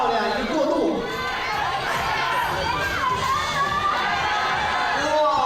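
Crowd at the 2014 IFSC Climbing World Cup lead semi-finals in Haiyang cheers and shouts for a climber, a steady dense roar of voices with someone talking over it throughout.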